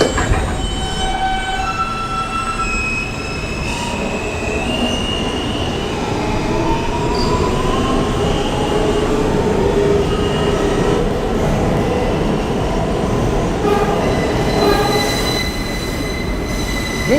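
A New York subway F local train bound for Coney Island–Stillwell Avenue pulls out toward Kings Highway, its steady close rumble layered with long, high wheel squeals throughout, with no voices.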